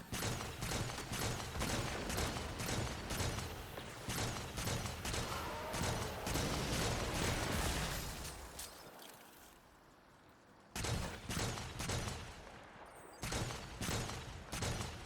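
Auto rifle gunfire from a video game runs as long, dense bursts of rapid, evenly spaced shots. The bursts fade briefly, then resume with shorter volleys, loud and close, with no talking.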